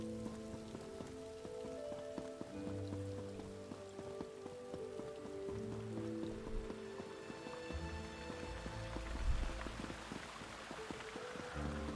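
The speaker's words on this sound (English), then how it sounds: "Oh, it's raining again." Steady rain patters across the surface in a video game, a dense continuous wash of drops holding at an even level throughout with music or tones faintly beneath.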